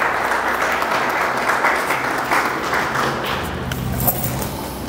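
Steady, dense applause fills the hall at a CEEAC swearing-in ceremony, an audience clapping continuously and evenly for the whole stretch with no voices over it.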